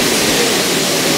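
A copper rose oil distillation still runs with a loud, dense, steady hiss and roar, continuous and broadband like rushing steam, with no voices.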